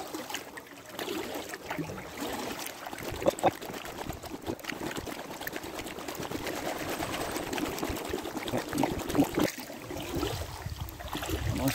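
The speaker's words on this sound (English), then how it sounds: "Nice Sunday morning paddle." Rhythmic splashes and gurgling water as a boat is paddled along the calm Monmouthshire and Brecon Canal, steady strokes continuing throughout with no voices.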